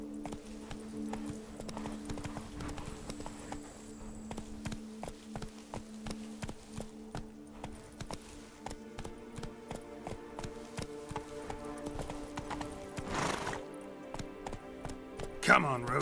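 Roach the horse from The Witcher 3: Blood and Wine gallops with a steady run of hoof clip-clops through the whole stretch, layered over game music and ambient sound, with a louder burst near the end.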